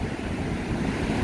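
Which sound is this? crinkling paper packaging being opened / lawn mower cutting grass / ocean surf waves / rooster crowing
ocean surf waves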